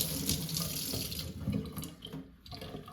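Tap water runs into a kitchen sink while a spatula coated in couscous is rinsed under it, a steady close splashing rush lasting about three seconds.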